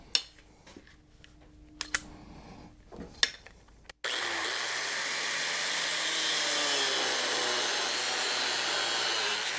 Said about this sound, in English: We're going to go flat flush across the bottom of the hinge here and cut the washer off.